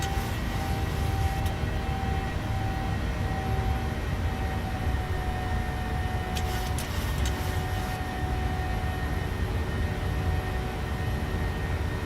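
Steady, loud roar of Boeing 737-800 jet engines at climb power in a flight simulator, a continuous broadband rush with a faint whine. A few brief clicks near the middle, no voices.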